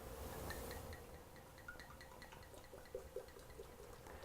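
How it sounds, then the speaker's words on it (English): Olive oil pours gently over a jar of dried herbs, a soft, quiet trickle with faint liquid glugs and small splashes, steady and close with no voices. "you're going to fully submerge your herbs with your oil of choice"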